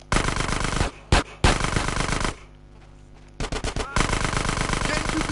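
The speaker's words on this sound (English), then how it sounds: "Get some suppressing fire in there!" Heavy automatic gunfire from a GTA San Andreas shootout against police rattles in loud sustained bursts, breaking off for about a second before resuming.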